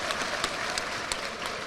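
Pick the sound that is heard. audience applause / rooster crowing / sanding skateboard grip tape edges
audience applause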